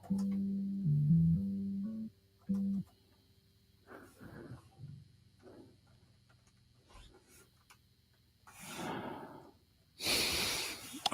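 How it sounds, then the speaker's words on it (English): A person breathes close into a microphone, with several soft, irregular breaths and rustles spread out over quiet gaps, ending in louder, noisy exhales, following a short hummed low tone at the start. "now it's just me breathing into the mic."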